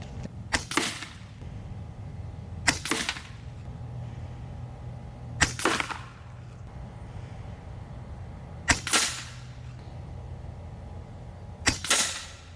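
An FX Impact M4 air rifle firing pellets, five sharp, close cracks spaced a few seconds apart, each with a short decaying tail over low background noise, no talk.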